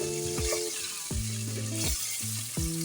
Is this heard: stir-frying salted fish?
yes